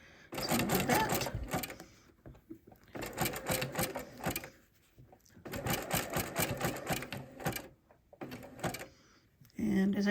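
A sewing machine stitches fabric-wrapped rope trim for quilt edging in three loud bursts of rapid close needle clatter, each separated by a pause, with a brief shorter run and a thump near the end.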